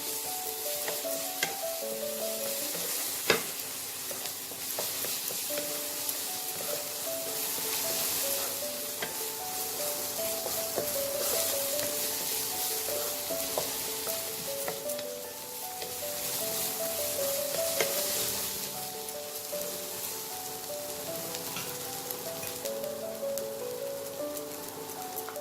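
Ginger garlic paste frying in a pan with browned onions, a steady crackling sizzle over the whole stretch with occasional stirring clicks, under light background music.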